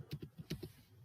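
Soft, quick clicks of someone typing a short word on a computer keyboard, about eight keystrokes in a light irregular rhythm, close and quiet with no talking.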